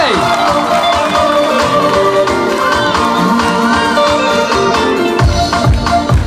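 A crowd applauds and cheers for a school principal at a public gathering, loud continuous clapping mixed with shouts and whoops, with music or amplified sound running underneath throughout.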